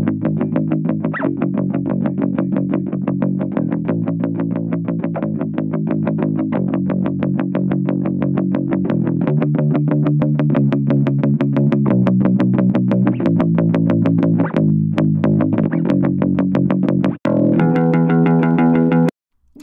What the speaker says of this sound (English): Sounds like the kind of grungy, gnarly effect that I think would suit this bass guitar recording.